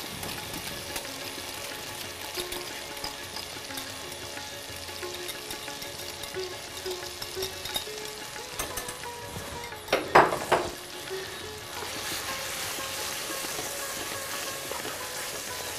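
Mutton korma frying steadily in oil, a soft continuous sizzle with a sudden louder spit and clatter midway as sour yogurt is stirred into the pan, followed by brighter hissing.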